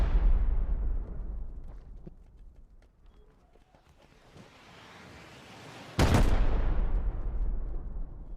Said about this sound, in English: How many rockets does he have?